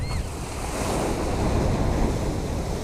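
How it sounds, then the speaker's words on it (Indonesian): Ocean waves roll in at Tambakrejo beach in South Blitar, a steady wash of surf with gusting wind buffeting the microphone and no voices. "Lihat itu laut yang selalu bergerak"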